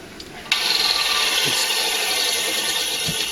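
A professional disc sander built for extended use switches on with a click and runs with a steady, fairly quiet whirring hum, close by and without speech.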